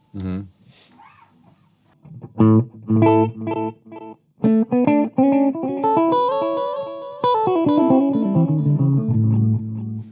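Guitar played through an Echoplex EP-3 tape echo, its picked notes and chords trailing off in repeating delayed echoes that swell and sustain over about ten seconds, heard loud with no talking.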